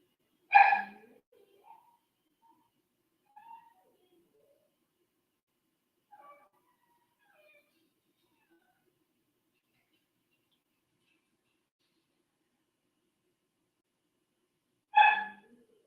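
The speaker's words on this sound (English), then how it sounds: "You guys hear my dogs whining? My dog whining?" Dogs whine and yelp in a few short, high-pitched bursts separated by long quiet stretches, with a couple of faint soft whimpers in between; no one speaks.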